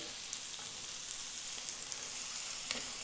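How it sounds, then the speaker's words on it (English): Thin chicken pieces fry in hot olive oil in a pan, giving a steady, dense sizzle with small crackling pops throughout, heard alone without talk. "our pan is good and hot. We've got our olive oil that's heating up inside there."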